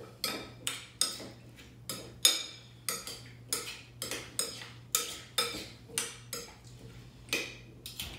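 Fresh local honey being stirred into food in a container, a steady series of about a dozen scraping, clinking strokes against the sides at a regular rhythm, close by with a low hum underneath and no talking.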